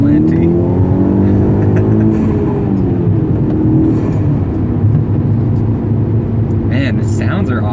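A Volkswagen Mk6 GTI with a K04 turbo accelerates hard. The engine note climbs steadily and stays loud and close throughout, with a whooshing turbo character over it.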